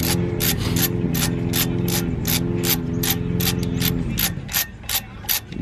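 Stanley ratchet handle twisted to loosen truck brake bolts, the pawl clicking in quick regular bursts over a low grinding hum of a running machine nearby, close and loud, without speech.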